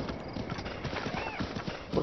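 Steady clip-clop of horse hooves trotting at an even rhythm in The Legend of Zelda: Breath of the Wild, close and continuous, with a brief whinny-like tone midway and no talking.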